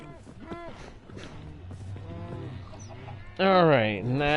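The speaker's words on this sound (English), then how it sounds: "There's the chickens." Chickens in the video game Minecraft, Bedrock Edition, cluck in short bursts with one loud, close squawk near the end, while someone talks over the earlier clucks.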